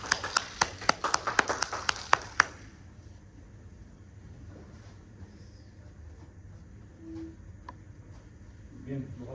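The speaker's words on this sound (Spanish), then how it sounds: "recibamos con un fuerte aplauso" A few sharp, sparse claps in quick succession at a lecture, close and distinct, stopping after about two seconds and giving way to quiet room tone.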